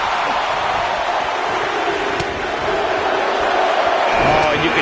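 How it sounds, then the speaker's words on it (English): A wrestling arena crowd in WWE 2K roars in a steady, dense wash of cheering, with a commentator talking over it. "Listen to this crowd."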